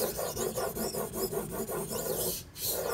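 A knife being sharpened on a 1K whetstone with an adjustable angle guide, a steady rhythmic rasping as the blade scrubs back and forth in quick repeated strokes, close and alone.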